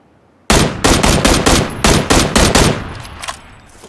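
Vector submachine gun fired in rapid full-auto bursts in the PUBG battle royale game, loud and close, a string of sharp shots with brief gaps between them, heard alone.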